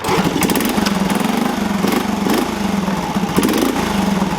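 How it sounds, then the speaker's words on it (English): A Honda C70 Passport Super Cub motorcycle, a small engine with an integrated clutch, runs at a steady rattling idle, close and loud, with faint ticking pulses throughout and no speech. "Starts right up every time while the key's on."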